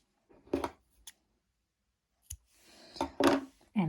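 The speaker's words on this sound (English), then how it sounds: "Here I'm going to cut the yarn" Scissors cutting crochet yarn at the end of a net bag, two or three short snips and clicks up close, with quiet handling noise between them and no talking.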